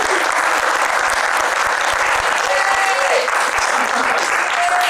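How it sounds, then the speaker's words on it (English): Audience at an improv comedy show applauding, continuous dense clapping and crowd noise at a steady level, with a few faint voices and whoops rising briefly above it. "give them your applause"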